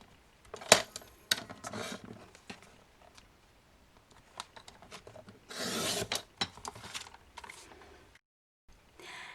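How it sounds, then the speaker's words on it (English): Scissors cutting paper into one-inch strips for a kids' Bible craft page, heard as a series of short crisp snips and rustles close by, with brief pauses between cuts and no talking. "I'm going to continue to cut them in 1 inch strips."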